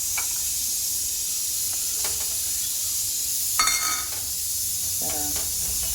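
Khoa (milk solids) sizzling in a hot pan while pav bhaji is cooked, a steady close hiss broken by a few short scraping stirs.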